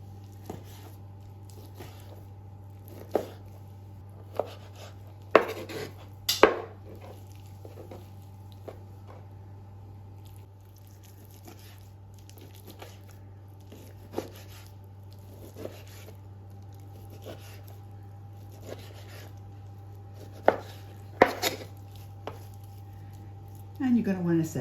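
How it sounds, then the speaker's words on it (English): A knife cubing raw chicken breast: repeated soft wet chopping taps at an irregular pace over a steady low hum, with occasional sharper knocks against a board. "Now just cube it up into bite-sized pieces."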